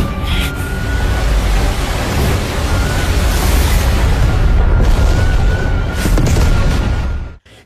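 A loud, sustained roar of explosive blasts and rumbling debris as the center of an arena explodes in an animated fight scene, with booming impacts throughout before cutting off abruptly near the end.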